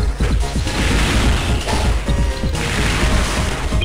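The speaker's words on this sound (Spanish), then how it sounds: "le tiramos un cañonazo de cerca y no lo pudo esquivar" A close-range cannon shot in a Game Boy Advance anime fighting game: a loud, dense run of crashing booms and clattering mechanical impacts that keeps going without a break, with no voices.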